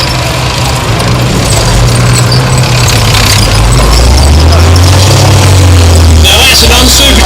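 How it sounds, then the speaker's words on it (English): A Rolls-Royce Meteor tank engine, an unsupercharged Merlin derivative, idles at a military vehicle show with a loud, steady low throb and rumble, a slight rise in pitch partway through, over outdoor crowd noise. "Now that's an unsupercharged Merlin called a Meteor"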